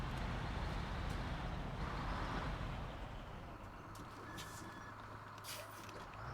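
Upgraded Chevy C70 Kodiak truck in the Snowrunner video game, a steady engine rumble that eases back midway, joined by faint short tonal beeps and clicks.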